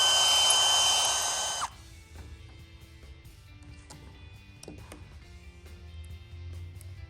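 A drill bores a 9/64 hole through a plastic light lens into a truck sun visor, a loud close whine lasting under two seconds that stops abruptly, followed by faint handling clicks.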